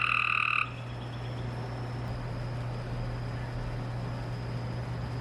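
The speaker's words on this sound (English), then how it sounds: "there's a frog over there and it's really loud." A frog croaks loudly and steadily nearby for a moment, then stops, leaving a low constant outdoor hum.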